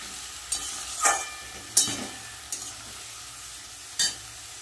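Ground cumin, ginger and green chilli paste fries in a pan under a low, steady sizzle. About five sharp, separate spoon scrapes against the pan stand out clearly.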